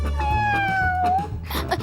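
A cat gives one long, drawn-out meow, close and clear, followed by a brief rustle.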